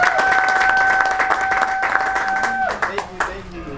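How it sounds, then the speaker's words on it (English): Audience applause for a senior being introduced at a presentation, a steady burst of clapping that thins out toward the end, with a voice heard over it. "so we can give him a round of applause"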